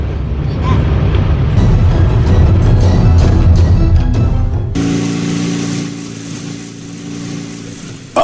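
A motorcycle engine drones steadily while riding, under loud wind rush, then settles into a lower, smoother humming tone for the last few seconds.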